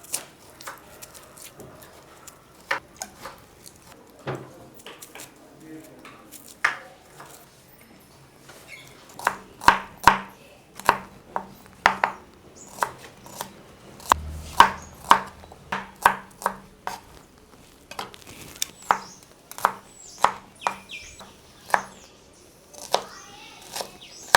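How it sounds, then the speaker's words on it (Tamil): A knife chops peeled small onions (shallots) on a cutting board in a home kitchen, making irregular bursts of crisp, close taps with short pauses between them, and no voices. "அடுத்தது எடுத்து வச்சுருக்க சின்ன வெங்காயம் தோல் உரிச்சிட்டு கழுவி கட் பண்ணி எடுத்துக்கலாம்"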